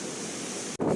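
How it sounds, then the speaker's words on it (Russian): Strong wind blowing by the sea on a Yalta seafront path in October, a steady broadband roar with buffeting on the microphone, briefly cutting out near the end before gusting back louder. "Какой ветрюган."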